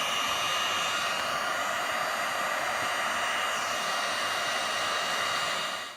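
A heat tool melts embossing powder on a card with a loud, constant blowing whoosh close to the mic. It holds steady and cuts off at the very end, with no talking.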